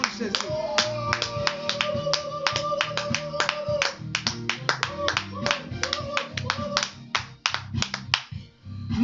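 A church congregation at a midnight women's prayer meeting claps in a quick rhythmic beat, loud and close, while voices sing or talk faintly underneath.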